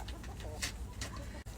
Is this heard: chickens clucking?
yes